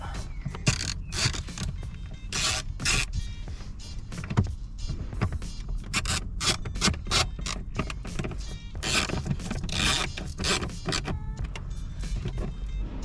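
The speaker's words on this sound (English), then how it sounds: "Then there's one little screw that goes in here." A small screw is driven into a Mercedes Bose car amplifier in a series of short, rhythmic mechanical whirring bursts, close and fairly loud, repeating throughout.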